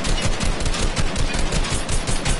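Assault rifle gunfire in a video game rattles out in a dense, continuous automatic burst, loud and close, with rapid repeated shots and no pause.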